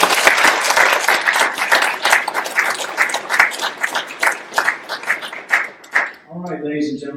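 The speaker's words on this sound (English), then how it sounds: "let's give our honor guard a round of applause" Graduation ceremony audience applauding the honor guard, a dense, loud burst of many hands clapping that thins into scattered claps before a voice begins speaking at the end.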